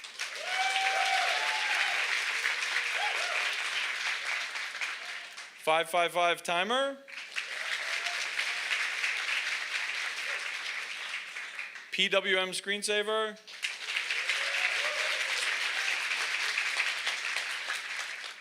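At the Hackaday Supercon 2022 badge hacking awards ceremony, a crowd claps loudly in long steady stretches, broken twice by a presenter calling out entries before the applause swells again.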